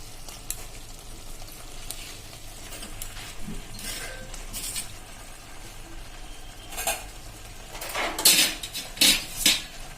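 Boiled macaroni pasta stirred into a spiced gravy in a metal pan over a low flame, with steady soft scraping and clinks of the spoon building into sharper metallic knocks near the end.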